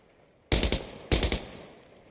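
Two short bursts of automatic gunfire ring out from a gun in Insurgency Sandstorm, each a rapid string of close, loud shots with a fading echo tail and no talk.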